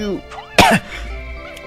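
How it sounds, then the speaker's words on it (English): A single sharp cough bursts out near the middle, close and loud, surrounded by quieter voiced sounds. "Still got that cough."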